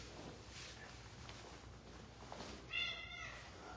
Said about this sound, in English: this is a 30-pound obese house cat named Piper.